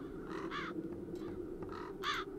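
Crows caw in a video game, two quick harsh bursts early and two more near the end, fairly close and loud over a low steady ambient hum.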